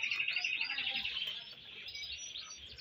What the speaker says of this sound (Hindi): ये क्रिस्टेड कैनरी है